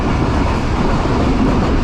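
The Mohenjo-Daro passenger train runs at speed on the ML2 line between Sann and Amri stations, about 70 km/h. The rail noise is loud, dense and constant, heard from aboard, with a faint rhythmic wheel clatter.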